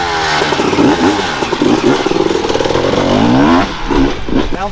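Small kick-start engine, likely a two-stroke single, warming up and revving hard with a rough, choppy rhythm, loud and close with repeated throttle blips.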